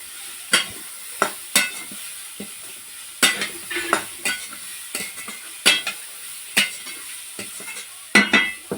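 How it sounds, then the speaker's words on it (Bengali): Grated cauliflower is turned through cumin and other spices in a hot pan, a steady series of sharp scraping spoon strokes over a faint background sizzle. "এইবারে এই মশলাটা একটু এইভাবে নেড়ে চেড়ে নিয়ে এর মধ্যে দিয়ে দিচ্ছি গ্রেট করে রাখা ফুলকপি।"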